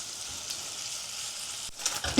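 Smoked pork belly frying in a pan until golden, a steady close sizzle of hot fat with a brief scrape near the end, no voices.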